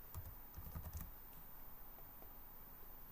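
Someone types login credentials on a computer keyboard in a quick burst of close, soft key taps at the start, then near-silence with faint room noise.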